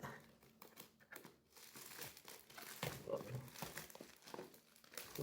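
Plastic and paper packaging of a Philips 9000 series all-in-one trimmer crinkles and rustles as it is unwrapped up close. The handling noise is continuous, with sharper crackles and tearing, and a person talks quietly underneath.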